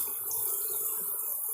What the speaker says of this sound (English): Let me rinse off my cutting board